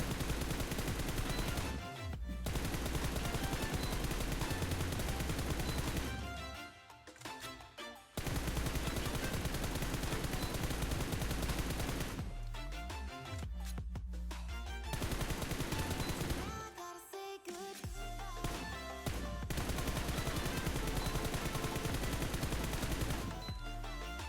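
Rapid automatic gunfire in the mobile battle-royale game PUBG Mobile while aiming through a 3x scope, loud sustained bursts broken by short pauses, repeating several times.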